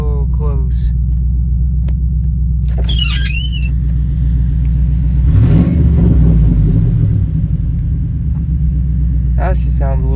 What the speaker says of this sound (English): I really do think I ran this car out of oil just now, and it's purring again